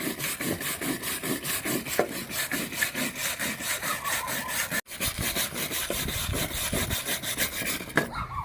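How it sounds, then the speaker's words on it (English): Rapid, rhythmic scraping of a wire brush rubbing back and forth over rough, torch-burnt wood, clearing soot in steady strokes close up with a brief pause midway. "I'm going to take my wire brush and start sanding it down"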